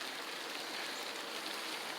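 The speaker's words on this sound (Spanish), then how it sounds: "Está lloviendo porque ya va a empezar la primavera." Steady rain patters across a backyard in late winter, a dense, even wash of droplets close by with no break and no voices.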